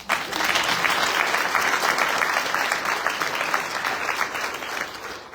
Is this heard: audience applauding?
yes